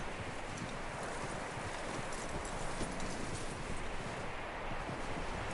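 Faint, continuous hoof clip-clop from a horse on the move in Red Dead Redemption 2, mixed with soft wind-like noise and rustling, with no talking.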